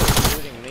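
Rapid automatic gunfire in a Fortnite zone wars match, a short burst of close, loud shots lasting under half a second before fading into a brief voice.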